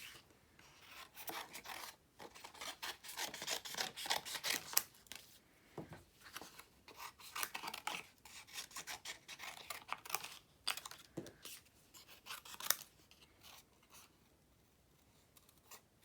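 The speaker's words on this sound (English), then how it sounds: "I am going to cut out very quickly" Scissors snip out flower shapes for a handmade birthday card, a quiet, busy run of rapid cuts with paper rustling and crinkling, no voices.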